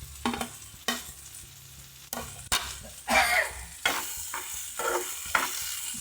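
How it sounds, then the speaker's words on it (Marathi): Okra tossed into a pan of browned onions sizzles softly while a spatula scrapes and stirs it in uneven strokes, with a few light clinks of utensils. "चला तर आपण आता याच्यात भेंडी टाकूया"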